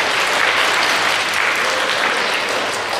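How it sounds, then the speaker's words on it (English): Audience at a school Mass claps steadily for a pupil, a dense, even wash of applause filling the room at close range and fairly loud throughout. "Let's give a round of applause to Jonathan."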